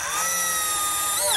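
A power drill drives 1¼-inch sheetrock screws, giving a short, continuous high-pitched whir that rises slightly in pitch at the end, heard close and alone.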